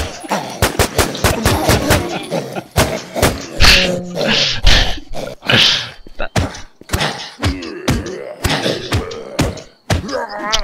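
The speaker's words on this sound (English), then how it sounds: "I hear the gunshots." Rapid bursts of loud video game gunfire in Infestation: Survivor Stories, single shots and quick automatic volleys, crack repeatedly at close range with brief gaps between them.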